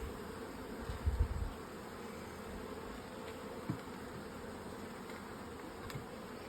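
Buckfast honey bees in a garden buzz softly and steadily as they are moved from a nuc into a hive on a hot day. A few brief, louder knocks or handling sounds rise over the constant low hum.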